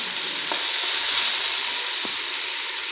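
Chopped green chillies go into a sizzling mixture in a pan while making chicken bread rolls: a steady close frying hiss with a couple of soft spoon-scrape knocks as it is stirred.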